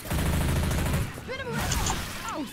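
A howitzer cannon firing in a video game, with a heavy, rumbling blast followed by whistling, sweeping tones as the shell flies, loud and close.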